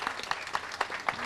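An audience applauds briefly, scattered claps coming in quick bursts, faint and somewhat distant.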